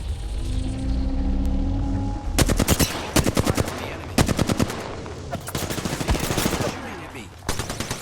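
Rapid bursts of automatic gunfire rattle in a multiplayer shooter game shown at GamesCom 2019, with loud repeated volleys broken by short pauses after a low humming opening.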